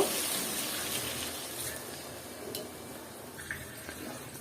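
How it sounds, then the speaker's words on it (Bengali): Water is poured into a cooking pot holding tuna heads and mung dal being cooked, a steady broadband gushing wash that starts strong and eases slightly, close and continuous, with a couple of faint clinks and no talking. "আর আমি চার কাপের মতো পানি দিয়ে নিব"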